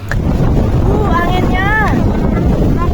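Strong gusty wind buffets the microphone during a storm on Mount Merbabu, a loud continuous roar throughout with a voice speaking briefly underneath.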